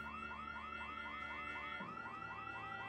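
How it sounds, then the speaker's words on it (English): Car alarm in the video game Project Zomboid, a looping electronic siren with rapid repeating up-sweeping tones, steady and loud, with a slight shift in the pattern near the end. "all the zombies in the area are now going to run towards the sound of that alarm"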